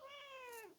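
A house cat gives a single clear, drawn-out meow that rises and then falls in pitch, quiet and close, with no voices over it.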